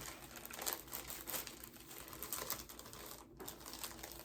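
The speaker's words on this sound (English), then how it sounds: "put it in the sandwich bag," A plastic sandwich bag crinkles and rustles as a slice of pumpkin bread is slipped inside and the bag is sealed, close, dry crackling handling noise in irregular bursts, fairly quiet and with no voices.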